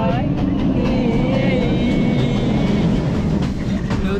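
A crowded third-class train from Kandy, Sri Lanka, rumbles steadily through mountain country, with continuous loud wheel and carriage noise, heard from inside or at an open door, and faint voices underneath.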